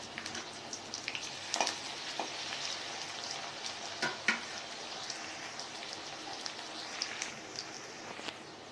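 Onions frying in a pan for chana ghugni, giving a continuous crackling sizzle like light rain, with occasional louder pops and stirring knocks.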